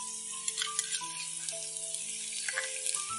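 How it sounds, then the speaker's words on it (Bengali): Garlic paste fries with browned onions in a pan for chicken dopiaza, a soft, close sizzle with light crackles and pops, while steady tonal hums run underneath; no talking. "পেঁয়াজটা ভাজা হয়ে গেছে, এবার দিয়ে দেবো অল্প রসুন বাটা"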